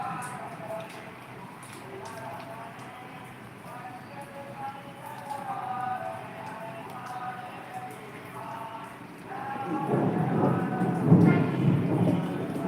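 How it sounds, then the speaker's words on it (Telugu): Rain falls steadily during a thunderstorm, with a deep rolling rumble of thunder swelling loud near the end, while a person talks and sings over it. "వర్షం వర్షం వర్షం ఇక్కడే పడుతున్నావా ఎన్ని దిక్కులు పడుతున్నావా"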